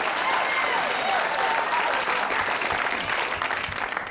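Loud, sustained applause from a large audience, a thick roar of clapping that holds steady and fades slightly at the end.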